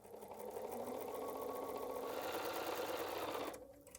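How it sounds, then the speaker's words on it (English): Sewing machine stitching the seams of a quilt block, a fast steady mechanical whir running close and continuous for about three and a half seconds before stopping abruptly, followed by faint handling. "I'll meet you at that sewing machine. We'll sew 2 more seams"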